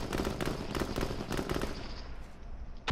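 A quick burst of rapid gunfire in the video game H1Z1, several sharp cracking shots for about two seconds, then quieter fading noise and a closing thump.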